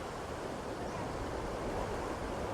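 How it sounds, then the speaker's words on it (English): Surf rolls continuously onto Boracay beach in the wind after a typhoon, a soft, steady wash of waves heard alone with no voices. "A little bit more waves."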